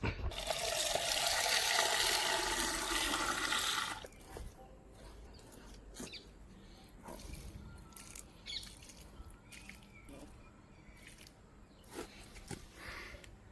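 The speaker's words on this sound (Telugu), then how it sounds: "ఇప్పుడు మనోడికి కొంచెం వాటర్ వేస్తే మన పని అయిపోద్ది" Water poured onto a freshly planted papaya sapling on a farm, a steady splashing stream for about four seconds that then stops, followed by quiet outdoor ambience with faint scattered ticks and bird chirps.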